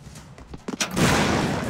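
Heavy gunfire and explosions from the run-and-gun video game Broforce, a few sharp separate shots building into a loud, continuous barrage of blasts.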